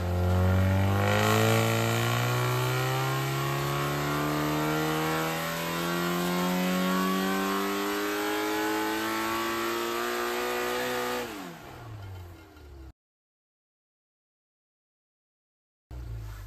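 A modified Ford Zetec Blacktop engine on a dynamometer, loud and close, holding a steady drone that climbs smoothly in pitch through a long pull before dropping off abruptly into silence.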